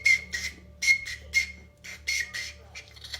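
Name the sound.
child blowing a small toy whistle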